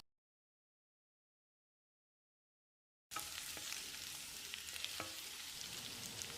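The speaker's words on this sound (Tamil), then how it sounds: "வெண்டைக்காய் கருகாமல் ஒரு 5 நிமிஷம் வதங்கட்டு அளவான தீயிலேயே வதக்கிடலாம்" Steady oily sizzling of okra sautéing in oil over medium heat, continuous and close, with a few soft clicks of stirring; silent for the first half.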